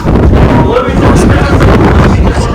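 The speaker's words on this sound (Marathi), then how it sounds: "थंड वारा सुटलाय" Strong cold wind buffets the microphone in a loud, continuous roar with gusty rumbling, close and unbroken.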